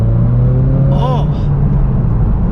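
A Subaru BRZ sports car on a track, its engine droning loud and close with steady, strained harmonics, while a brief voice cuts in partway through.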